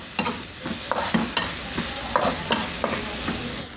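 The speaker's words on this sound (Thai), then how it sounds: "เจียวน้ำมันพริกกระเทียมเข้ากันแล้ว เอาเนื้อลงมาคนเลย" Beef stir-fried in chili and garlic oil for Thai basil beef, with a steady hiss of sizzling under repeated scraping strokes of a spatula against the pan, about a dozen strokes in an even rhythm.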